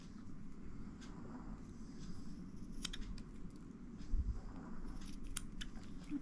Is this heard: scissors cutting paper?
yes